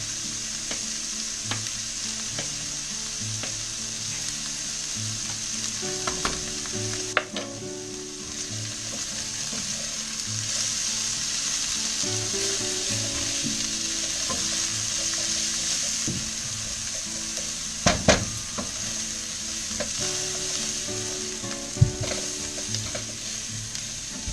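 Beef and barley soup vegetables, celery and carrots, fry in a pot with a steady broad sizzle and occasional sharp clinks and scrapes of stirring, close and continuous with no talk.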